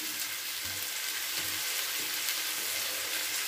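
Chopped bitter gourd frying in a pan gives a continuous, fairly quiet hissing sizzle with a few soft low thumps underneath.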